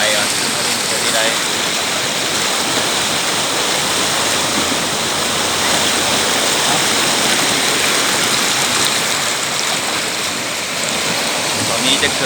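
A waterfall at a tourist spot with a small pool sends a constant loud rush of falling water, unbroken and close throughout.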